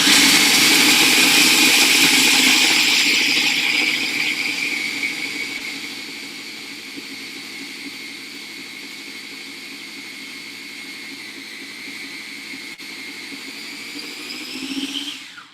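A small blender chopping and grinding nuts, a loud steady motor whine that drops in pitch and settles after a few seconds, running close and continuously before a brief surge and cut-off at the end.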